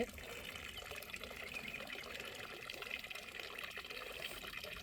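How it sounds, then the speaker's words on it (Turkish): Spring water flows out from between rocks in the countryside, giving a steady, faint trickling and splashing with no pauses. "Bu su bak taşın arasından geliyor."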